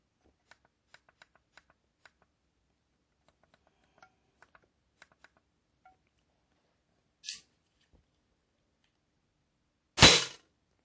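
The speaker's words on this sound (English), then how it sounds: "now first shot with Gamo rocket destroyer." A Diana LP8 Magnum air pistol fires a Gamo Rocket Destroyer pellet, a single sharp, loud crack that stands alone in a quiet room, preceded by a faint click and followed shortly by a second sharper report.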